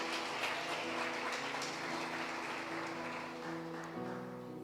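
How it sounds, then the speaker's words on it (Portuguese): Church congregation applauding, a dense steady wash of clapping that fills the space throughout, with sustained keyboard or organ tones underneath. "Você pode aplaudir o Senhor por esse testemunho"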